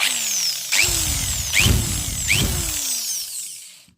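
A power sanding machine polishing the chassis protector of a KXe electric motorcycle, revving up in three or four close, loud bursts with rising whine, then winding down at the end.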